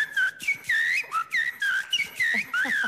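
A person whistles an imitation of a thrush's song on a talent show stage: a rapid series of bright, rising and falling whistled phrases, repeated in short bursts with brief gaps, clear and close.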